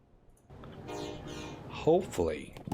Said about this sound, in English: now we can start this train going again